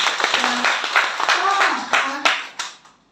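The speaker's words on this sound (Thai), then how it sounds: "ปรบมือให้กับท่านดังๆนะคะ" An audience at a Thai business talk claps loudly in a burst of sharp, distinct hand claps that thin out and fade to silence, with a voice briefly heard among them.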